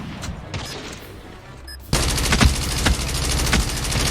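Type 25 rifle firing in Call of Duty: after a quieter stretch with scattered shots, a loud, sustained automatic burst erupts and rattles on without pause to the end.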